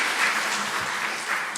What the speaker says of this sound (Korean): 우리 박수로 격려하도록 하겠습니다